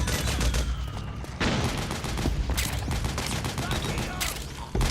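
Dense, sustained gunfire fills a battle in Metal Gear Solid 4: Guns of the Patriots, rapid overlapping shots and bursts forming a loud continuous barrage, with shouted voices buried in the din.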